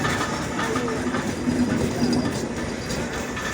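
The Down Simanta Express rumbles steadily nearby as it arrives at Saidpur station, with a faint squealing tone from the wheels and a constant mechanical roar, no voices.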